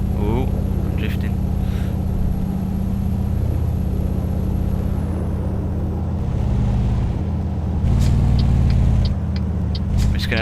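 The engine of a Mercedes NG1631 truck in Euro Truck Simulator gives off a loud, steady low rumble that swells as it is revved on a motorway slip road, with someone talking over it.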